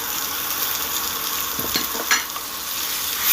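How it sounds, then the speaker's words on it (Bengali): Grated bitter gourd fries with onion and green chilli in a pan, a steady close hiss of sizzling oil with a few stirring scrapes partway through and no voices. "পেঁয়াজ আর কাঁচা লঙ্কার সাথে সুন্দর করে নেড়ে নেড়েচেড়ে ভেজে নিতে হবে উচ্ছেটাকে"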